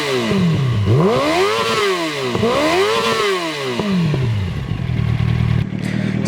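A Yamaha R1 sport bike with dual exhausts revs repeatedly, its engine pitch sweeping up and falling back several times in a loud, close sequence before settling into a rough idle.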